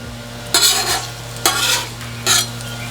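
Eggs and sausage frying on a Halo Getaway griddle, a continuous sizzle broken by three loud, rhythmic spatula scrapes across the hot surface, close and with no one talking.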